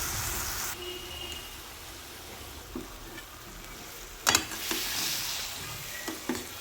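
Green chickpea leaves being stir-fried in a pan, a steady soft sizzle with occasional spatula scrapes and clacks, close by and without any talking.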